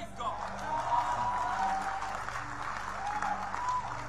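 A church conference audience claps together in steady, sustained applause that fills the hall at a fairly even level, with a faint murmur of crowd voices under it.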